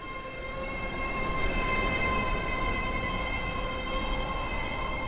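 A Class 801 train stands at Benton station in a Roblox railway game, with a steady, loud electric hum and rumble carrying sustained tonal whines throughout, and no voices.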